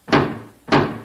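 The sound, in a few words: pounding on a garage door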